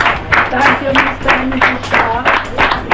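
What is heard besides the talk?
applause for Mr. and Mrs. Shaw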